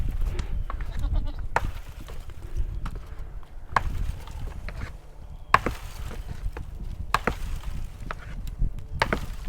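Axe chopping into a tree outdoors: sharp, loud woody strikes land at uneven intervals of about two seconds, each a crisp impact with a brief ring, over low rumbling background noise and no talk.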